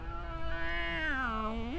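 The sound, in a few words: person imitating cat noises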